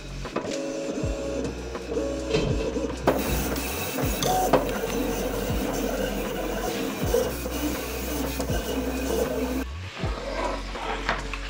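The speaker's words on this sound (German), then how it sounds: "Aber der kann auch auf jeden Fall auf 800 mm pro Sekunde schneiden, ohne dass er irgendwie super laut ist oder unpräzise wird." A Vevor vinyl cutter cutting vinyl, a continuous mechanical whirring with buzzing motor tones and repeated clicks and thumps as the head moves, running steadily and fairly loud.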